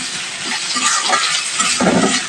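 Amra (hog plum) pieces with onion, green chili, turmeric and salt frying in a pan, a steady close sizzle and hiss with stirring scrapes, no voices.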